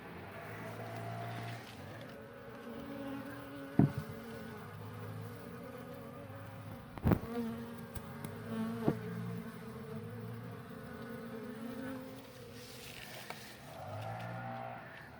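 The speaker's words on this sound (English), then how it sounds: "then I'll get the rest of the bees out." Honeybees buzz steadily around a hive during a cutout from a water meter box, with a dense droning swarm filling the whole stretch and a few sharp knocks and clunks of handling rising above it.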